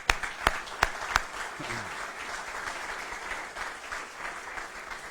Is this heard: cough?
no